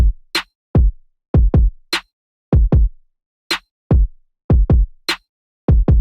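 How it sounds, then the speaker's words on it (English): An electronic kick drum and snare play alone in a steady dance beat, deep booming kicks alternating with crisp snare hits, punchy and clean with silence between hits and no voices. "The kick and snare alone sound like this."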